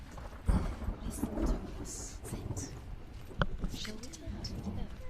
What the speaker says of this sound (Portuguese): Porque eu tô ouvindo os trovões muito altos.